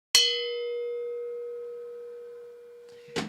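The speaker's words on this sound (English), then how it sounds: "I believe I will ring the bell for that because I've seen enough" A single bell is struck once and rings with a clear metallic tone that decays slowly over about three seconds, ending in a brief clatter.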